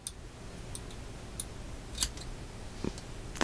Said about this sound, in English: So I just grab my scissors and cut.